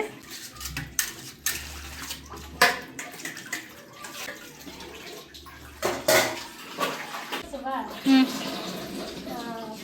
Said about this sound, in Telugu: చికెన్ బిర్యానీ చేసిన తర్వాత వచ్చిన అంట్లు కూడా చెల్లి తోమేస్తుంది